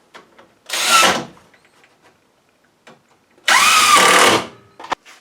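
A power drill drives screws into boards for a pallet storage rack in two loud, close bursts, each about a second long with a rising whine as the screw seats, separated by quiet handling clicks.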